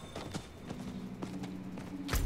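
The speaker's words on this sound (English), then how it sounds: "Yeah, boy, we got us a little horse." Hooves of a horse mount clip-clop in Diablo 4, several soft, evenly spaced steps at mid distance, with a thud at the end.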